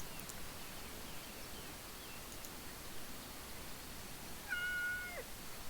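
A cat meows once in the video game Yes, Your Grace, a short and fairly faint call near the end over a steady hiss of background noise.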